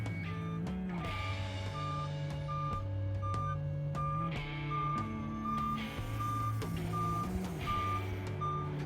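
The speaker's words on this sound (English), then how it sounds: "The gigantic tow truck anchored itself into the desert to make sure it wouldn't move." A large tow truck's reversing alarm beeps in a steady repeating rhythm out in the desert, loud and close, over the truck's continuous low diesel engine rumble with shifting revs.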